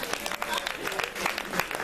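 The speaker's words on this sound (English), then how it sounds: "Let's give them a round of applause for that." Applause from a keynote audience, a busy patter of many hands with sharp individual claps standing out, steady and moderately loud throughout the short stretch.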